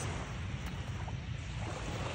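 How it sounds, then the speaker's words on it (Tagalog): Steady broadband roar of surf at Aroma Beach, constant and fairly loud, with wind rumbling on the microphone and no voices. "Tabi-tabing dagat"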